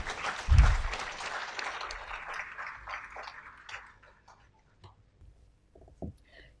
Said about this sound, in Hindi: संध्या के लिए ज़ोरदार तालियां हो जाएं।